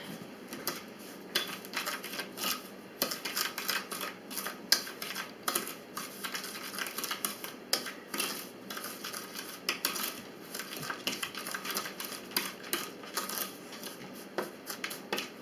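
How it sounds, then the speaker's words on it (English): Cinnamon and sugar being mixed in a dish: a steady run of light, rapid clicks and scrapes that keeps going for about fifteen seconds, close up, with no talking. "cinnamon and sugar. Let me mix that up a little tiny bit."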